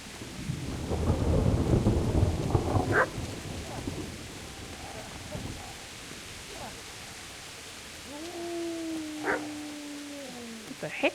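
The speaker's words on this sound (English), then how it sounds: "I heard a dog" A dog barks during a thunderstorm in the medieval video game Kingdom Come: Deliverance, with rumbling thunder and rain dominating early, then a few distant barks heard over the storm.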